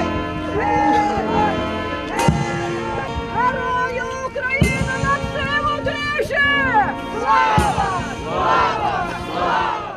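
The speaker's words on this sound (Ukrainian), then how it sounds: "Під вигуки «Герої не вмирають»" Mourners at a funeral procession for a 21-year-old fallen soldier shout a slogan together in loud, rhythmic crowd chants that rise in repeated waves, with music and wind noise running underneath.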